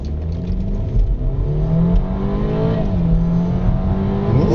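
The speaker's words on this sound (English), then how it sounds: "for a little four-cylinder engine, that acceleration is pretty decent" A BMW 328i GT four-cylinder engine accelerating in Sport mode, heard steadily and fairly loud from inside the car, rising in pitch through the gears with a brief drop at a shift.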